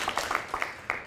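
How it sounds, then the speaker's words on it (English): An audience claps together in a scattered way, producing several short, uneven bursts of handclaps over about a second rather than one unified clap, heard close and moderately loud. "I want you to take your hands and just clap it together once"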